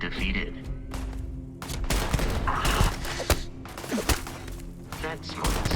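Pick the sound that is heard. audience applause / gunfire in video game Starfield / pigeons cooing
gunfire in video game Starfield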